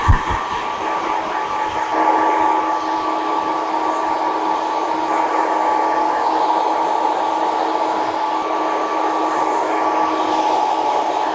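A hair dryer runs at high speed and high heat, drying a short men's haircut with a loud, steady close-up whoosh and a constant tonal hum, briefly changing pitch at the start.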